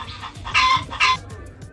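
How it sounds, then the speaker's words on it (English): Two short, harsh rooster calls sound close together, loud and near, with quieter background noise between them. "And a rooster."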